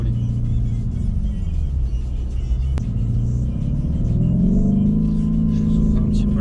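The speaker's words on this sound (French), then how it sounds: "C'est vraiment une voiture exceptionnelle. Je sais pas si vous entendez à l'accélération" Lamborghini Urus SUV engine rumbling steadily from inside the cabin, a deep low drone that swells slightly as the car accelerates, with no talk over it.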